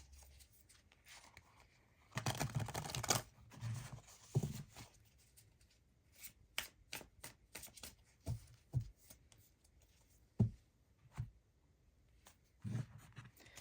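Light Seers Tarot cards are shuffled close up and quietly: a dense riffle burst early on, then scattered soft slaps and slides as individual cards are handled and laid down.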